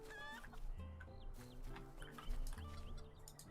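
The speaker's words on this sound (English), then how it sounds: "Rooster's coming around the back." Rooster crowing and hens clucking in the video game Lord of the Rings Online, several harmonic calls and clucks repeating close by in a farmyard scene, with no talk over them.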